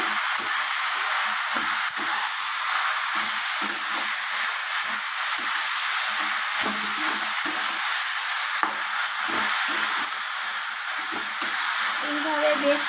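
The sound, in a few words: stirring taro in oil with tempering spices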